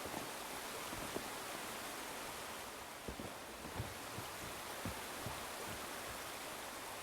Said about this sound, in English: We've got the beautiful sound of running water.